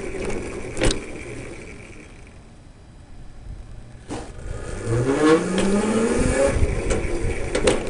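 An electric vehicle with a MY1020 48V 1000W motor and TD Pro speed controller climbs a driveway, a rising motor whine with upward-sweeping tones growing louder over road rumble, after a couple of sharp knocks.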